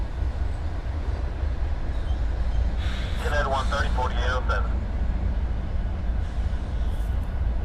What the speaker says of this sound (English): There goes the end of our coal train.